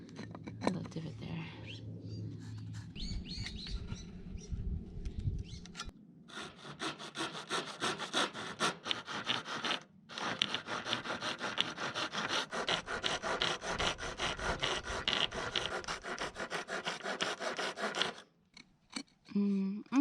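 Wood is worked by hand to cut a small divot at an off-grid homestead in Portugal, giving long runs of close, rapid rasping strokes with brief pauses.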